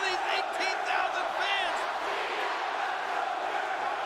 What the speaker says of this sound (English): In the middle of the match, all you hear is, "Let's go Cena, let's go Jericho."